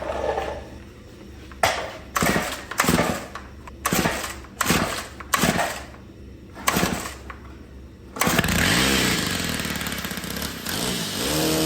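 A weed whacker's small two-stroke engine first sputters in a series of short bursts, then catches and runs continuously at a high, buzzing rev, close and loud with no talking.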